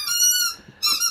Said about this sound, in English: Now I can't say anything because it's very squeaky here.